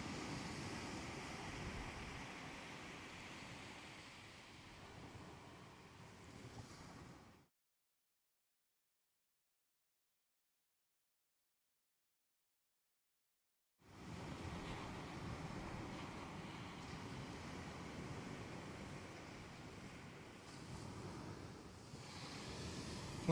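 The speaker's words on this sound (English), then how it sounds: "Some of the waves are turning over quite big" Sea waves break on a stormy shore with steady rushing surf and wind buffeting the microphone, cutting to silence midway before the roar returns.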